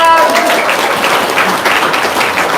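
An audience breaks into brisk, loud applause, a thick wash of clapping that holds steady for a couple of seconds.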